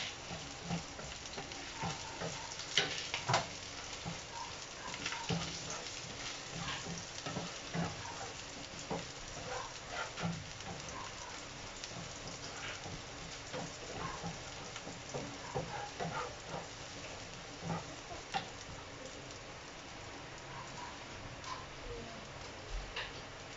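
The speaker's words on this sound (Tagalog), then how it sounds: "Mainit na yung ating pan. Lagay ko na yung ating sibuyas bawang." Onion and garlic sauté in a hot pan, a steady soft sizzle dotted with small pops and stirring clicks, close and fairly quiet with no talking.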